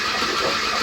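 A rebuilt VW Type 4 engine in a Porsche 914 cranks over in a loud, steady, dense mechanical churn that fills the whole short moment without a break, with no voices over it.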